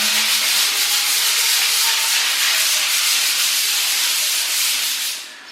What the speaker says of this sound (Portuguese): E em movimentos circulares vocês vão lixando o restante para baixo